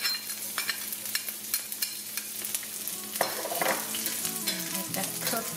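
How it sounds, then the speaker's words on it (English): Chopped garlic sizzling in olive oil in a hot cast iron skillet, a close, steady frying hiss broken by scraping stirs. "To the olive oil, I'll add the garlic that I cut up."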